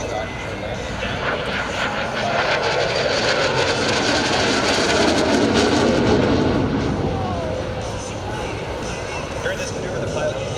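An AV-8B Harrier II jet at an air show gives off a continuous loud roar that swells and fades slightly, heard beneath a public-address announcer's voice.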